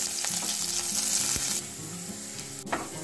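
Green chilies and curry leaves fry in hot oil, giving a steady, close sizzle with occasional stirring scrapes and a brief clink.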